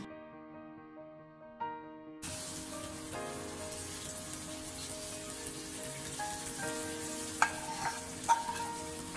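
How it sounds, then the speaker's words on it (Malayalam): A hot tempering of onion and curry leaves fried in coconut oil is poured onto a Kerala-style country chicken curry, and after a quiet start it sets off a sudden dense sizzle that keeps crackling steadily, close up, with no voices. "ഇതിനി ചൂടോടുകൂടി നമുക്ക് ചിക്കൻ കറിയുടെ പുറത്തേക്ക് ഒഴിച്ചു കൊടുക്കാം"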